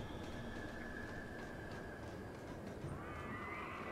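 A horse neighs and whinnies in the Secret World Legends video game, faint and distant, with soft hoof clops under a steady background hum.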